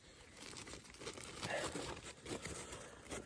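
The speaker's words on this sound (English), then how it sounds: "Crinkle up, get all the noise out." Wax paper crinkles and crackles in close handling as it lines a trap pan, a few seconds of soft, irregular rustling bursts.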